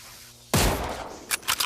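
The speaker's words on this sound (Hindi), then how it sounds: "मैं गोली चलाते हुए चलता हूँ ताकि डर बना रहे।" A single loud gunshot rings out in the mobile game PUBG Mobile and decays over about a second, followed by a few quick, fainter shots.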